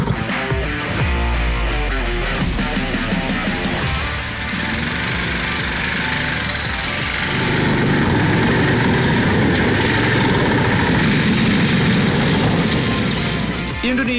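Go-kart engines on a race track: a continuous loud, buzzing small-engine drone that rises and shifts in pitch as karts pass and accelerate, dense and close throughout.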